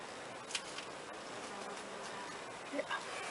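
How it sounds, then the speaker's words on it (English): A small bee buzzes faintly inside a quiet greenhouse, a thin hum that comes and goes, with a couple of brief closer passes near the end. "There's a little bee"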